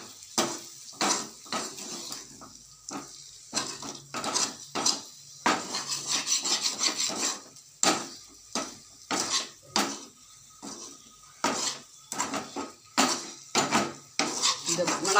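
Boiled eggs are stirred and sautéed in oil in a pan, with repeated clanking scrapes of a utensil against the pan in uneven bursts and a soft sizzle underneath, close and fairly quiet.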